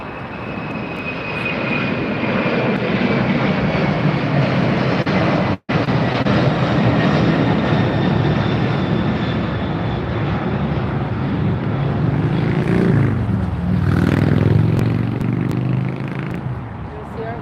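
A FedEx jumbo jet flies over LAX airport at twilight, its broad engine roar loud and steady throughout, swelling near the end, with faint talk underneath.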